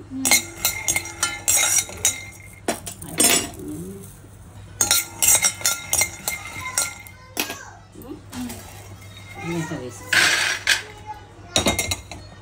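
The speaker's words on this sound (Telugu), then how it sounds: "దీన్ని వేయించుకోవాలి పల్లీలను." Peanuts fried and stirred in a pan for sabudana upma: sharp clinks and clattering strokes of a utensil against metal come in irregular bursts, mixed with intermittent adult talk and a voice.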